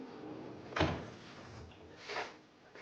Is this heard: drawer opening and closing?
yes